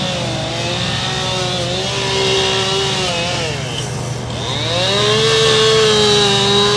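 A chainsaw runs steadily at an outdoor equipment expo, its engine pitch rising and falling as it works on a large carved dinosaur, with busy crowd noise behind it.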